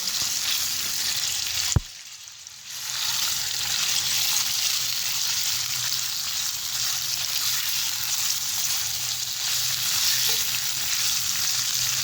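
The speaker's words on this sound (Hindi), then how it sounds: "चिकन को हमने तब तक फ्राई करना है जब तक इसका कलर वाइट ना हो गया।" Chicken pieces frying in hot oil for a pasta dish give a dense, continuous close-up sizzle, broken early by one sharp clack and a brief dip before the steady hiss resumes.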